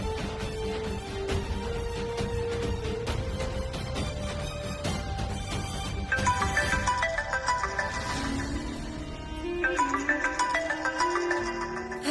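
A phone ringtone plays as a looping electronic melody of steady tones, moderately loud and alone with no voices, shifting into a busier, brighter phrase partway through as the call comes in from the doctor.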